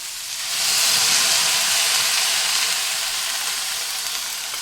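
Loud steady hiss and sizzle of half a bowl of water poured into a hot pan of cooking cockscomb greens, surging in the first second and then holding as a broad, even bubbling steam noise with no voices.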